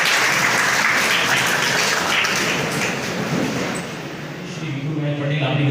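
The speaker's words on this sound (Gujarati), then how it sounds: "તાળીઓથી આપણે સાહેબશ્રીના સન્માનને વધારીશું." Audience clapping at a Kheda district police felicitation ceremony, a loud, dense wash of applause that fills the hall, thins briefly, then swells again, with voices faintly audible beneath.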